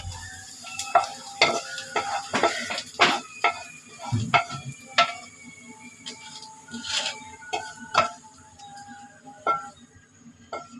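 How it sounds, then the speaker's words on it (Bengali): Onion, chili and coriander leaves frying in a pan give a steady sizzle, broken by repeated sharp clinks and scrapes of a spatula stirring against the metal, all close and fairly loud. "এতে পেঁয়াজ, মরিচ, ধনিয়া পাতাটা ভাজা হয়ে গেছে, এখন নামিয়ে নেব"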